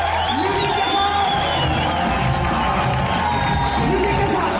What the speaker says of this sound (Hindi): अब तक की सबसे जोरदार तालियां बजाइए